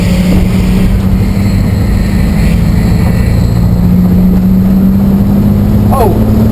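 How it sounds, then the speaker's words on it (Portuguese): A Volkswagen SP2's exhaust produces a continuous, loud, low drone with a steady pitch while the car drives, accompanied by broadband road and wind noise and a brief chirp near the end. "Oh, escapamento de SP2."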